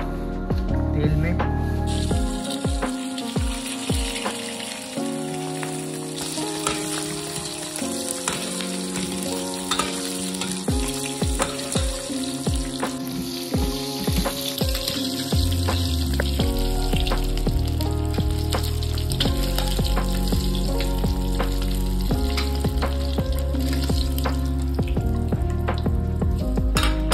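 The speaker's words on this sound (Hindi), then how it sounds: "अभी अम्मी अंडे को फ्राई करेंगे" Eggs frying in hot oil for a white egg curry give a loud, steady sizzle with scraping and stirring strokes on the pan, close up, with music over the top.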